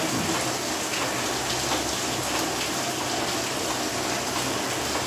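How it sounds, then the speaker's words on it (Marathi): Heavy rain pours steadily outside a home, a loud, even hiss of drops pattering on surfaces without letup and with no voices. "पाऊस पण भरपूर चालू आहे."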